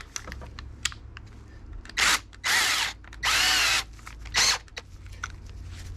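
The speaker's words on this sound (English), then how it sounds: "Stick a drill in it, spin it" A handheld drill spins a Corvette vehicle speed sensor on a bench in four short, whining bursts separated by quiet gaps, close and loud against light clicks and handling noise.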